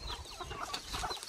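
Hens clucking on a village farm, a short burst of soft, quick clucks, fairly faint and close, with no voices.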